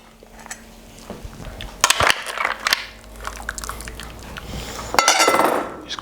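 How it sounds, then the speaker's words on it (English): Mussels in a spicy sauce being ladled from a pot into bowls with a slotted spoon, with close, irregular clinks and scrapes of metal against crockery and soft wet sloshes, louder in short bursts. "Just grab the bowl, spoon them in."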